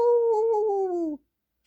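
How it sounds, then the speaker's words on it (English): A dog gives a single clear, sustained howl that slides slightly downward in pitch before cutting off abruptly, close and alone. "Then he howled."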